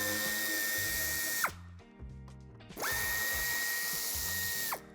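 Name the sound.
power tool removing bumper screws on Renault Kangoo III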